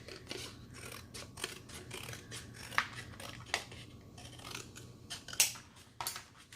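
Chipboard being trimmed with scissors for a junk journal, a close run of crunchy snips and rasping cuts with a few sharper clicks, quiet and unaccompanied by speech.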